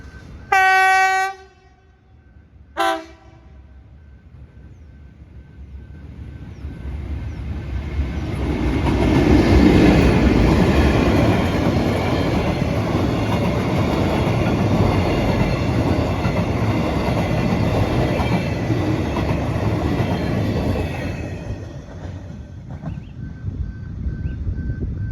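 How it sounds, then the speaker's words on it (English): Pacific National PN class locomotive PN003 leading a cement shunt service into a railway yard: two short horn blasts, then a rising rumble and clatter of wagons rolling past loudly for a long stretch before easing off. "we see Pacific National PN class PN003 leading cement shunt service 8TP2 into the railway yard"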